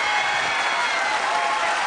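Studio audience applauding a singer on a televised singing competition, a dense, even wash of clapping holding steady and loud throughout.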